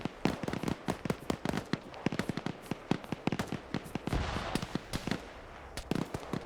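Rapid bursts of machine gun fire in the Arma military game during a Zeus Ops defense of COP Keating, sharp repeated shots in quick strings with brief pauses, loud and close, no talking.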